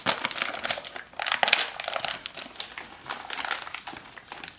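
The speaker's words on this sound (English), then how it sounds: "Open up the bag." A plastic bag holding Ktuned RSX V2 billet shifter box parts is torn open and handled, giving close, continuous crinkling and crumpling in bursts with no talk.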